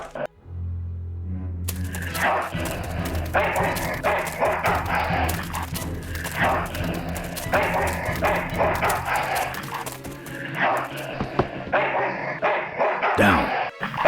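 A dog barks and yips repeatedly in the video game Full Throttle Remastered, with a few short bursts heard over a busy game soundscape and a low background hum.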